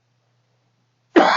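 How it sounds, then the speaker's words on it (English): A single sharp cough from a man during a language lecture, loud and close, bursting out abruptly after near silence. "I do apologize for this cough"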